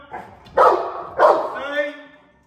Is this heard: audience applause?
no